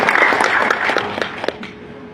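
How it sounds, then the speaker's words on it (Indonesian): An audience at an Indonesian gathering of honorary workers claps briefly, a burst of scattered applause that thins out and fades within two seconds. "tepuk tangan buat pejuang honorer di depan kita nih ya"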